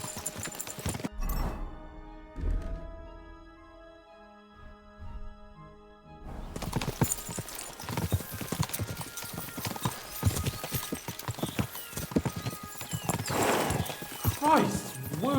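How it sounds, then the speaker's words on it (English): Hooves pound in a fast, continuous gallop of several horses in the video game Kingdom Come: Deliverance 2, loud and close, with a whinny and speech mixed in over the clatter. "We should spur the horses on."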